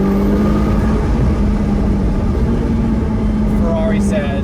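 A 2020 Ferrari F8 Tributo Spider engine hums steadily under a voice, with a constant mid-pitched drone and a faint whirring rise near the end.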